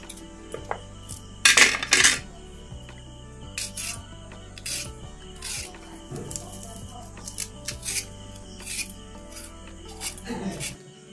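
Carrots are cut in a home kitchen with a run of sharp knife clicks and scraping taps against a board, a few louder clattering bursts in between, all over a steady low hum.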